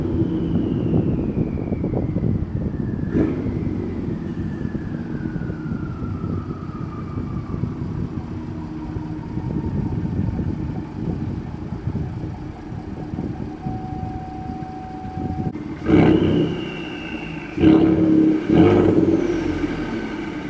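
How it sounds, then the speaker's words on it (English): A Ford F-150 with the 3.5 EcoBoost turbo engine and AWE exhaust, heard from inside the cab, carries a steady engine and road drone. Several rising turbo whistles and whooshes cut in, with a louder surge near the end. "Woohoo, the turbos. You just hear the turbo."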